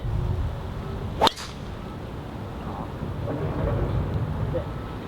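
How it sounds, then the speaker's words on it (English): Steady rain falling on a golf course, a soft continuous hiss throughout, broken early by one sharp, loud crack-like burst before the patter settles back in. "Still raining."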